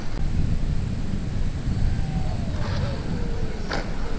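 A Dynam PT-17 model biplane's electric motor whirs during a bumpy landing, a steady mid-distance buzz over rough wind and ground noise.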